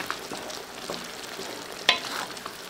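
Sarsiado, a Filipino fish and egg dish, stirred in a pan, with quiet frying and soft scraping, one louder clink of the utensil near the middle, heard close with no talk.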